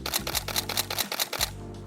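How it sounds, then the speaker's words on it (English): A single-lens reflex camera fires a rapid burst of shutter clicks, about a dozen sharp mechanical snaps in quick even rhythm, close and distinct, stopping briefly mid-burst before resuming. "That way you kind of get an idea what shutter speed sounds like."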